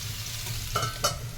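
Carrot pieces for pickle frying in oil over medium flame, a soft continuous sizzle with two brief crackling pops near the end.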